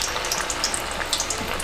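Shrimp and vegetable batter for Filipino ukoy drops into hot oil and fries with a steady close sizzle dotted with small crackling pops.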